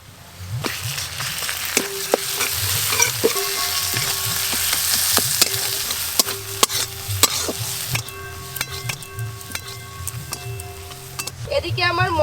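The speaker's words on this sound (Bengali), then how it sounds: "এদিকে আমার মশলা খুব ভালো করে কষানো হয়ে গেছে" Ground ginger, cumin and dried chilli paste with turmeric being stirred and fried in a pan with fried onions, a steady sizzle under repeated scraping and clinking of the spoon against the pan, with no one talking.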